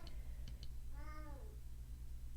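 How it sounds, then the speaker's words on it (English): A single drawn-out meow from a house cat, faint and brief, rising and falling over a steady background hum in an indoor room. "Cat. Be quiet, cat."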